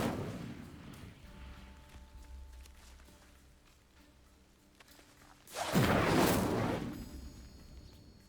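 A fire spell cast in the game Hogwarts Legacy bursts out as a loud, sudden whooshing blast of flame partway through, following quieter low ambient rumble, then fades.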